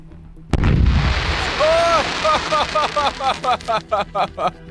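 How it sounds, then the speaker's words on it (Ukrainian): A sudden loud blast as a large firework explodes on the ground instead of launching, then a rapid flurry of crackling pops and whistling bursts that grows choppier, with voices reacting in the background. "Ой, що буває, коли феєрверк не злітає."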